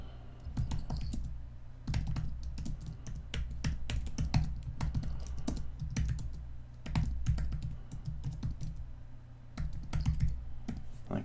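Someone types on a computer keyboard while building a website, bursts of quick key clicks broken by short pauses, close and fairly loud over a quiet room.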